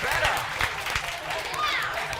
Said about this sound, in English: A round of applause for the virgins.